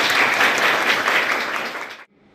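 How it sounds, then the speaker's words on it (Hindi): Loud, dense applause from an audience at a girls' government higher secondary school event, steady clapping for about two seconds before cutting off abruptly into silence. "इनके लिए जोरदार तालियां"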